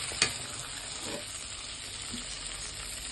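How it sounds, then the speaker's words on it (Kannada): Bay leaf, cinnamon and cloves sizzle in five or six spoonfuls of hot oil in a pan for Andhra-style gongura chicken. The frying is a steady, quiet hiss, with one faint clink near the start. "ಈಗ ಅದೇ ಬಾಣಲಿಗೆ ಒಂದು 5-6 ಸ್ಪೂನಷ್ಟು ಎಣ್ಣೆ ಹಾಕ್ಕೊಳ್ಳಿ. ಪಲಾವ್ ಎಲೆ, ಚಕ್ಕೆ,"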